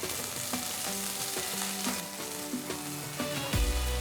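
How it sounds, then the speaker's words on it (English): Two roughly chopped medium onions fry in a tablespoon of oil in a pan, giving a steady, close sizzle with occasional stirring clatter and no talk. "The first step is to fry the onions and cashews together."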